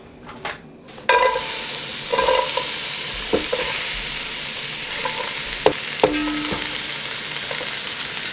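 Onions sizzle in olive oil in a pan for a chicken curry, starting after a quiet second and then holding a steady crackle under occasional stirring scrapes and light clinks of a utensil.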